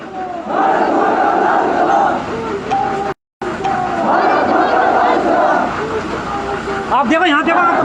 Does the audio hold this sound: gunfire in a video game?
no